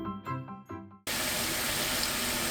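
Water pouring from a tap over hijiki seaweed in a bowl to wash it, a steady loud rushing stream that starts abruptly after a second of quiet kitchen clatter and runs on evenly.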